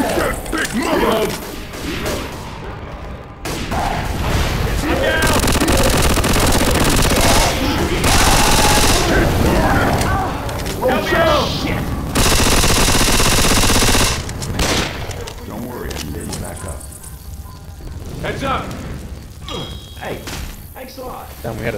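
Left 4 Dead gameplay fills with heavy, sustained gunfire against a zombie, long bursts of rapid shots broken by thuds and crashes, while voices shout over the din.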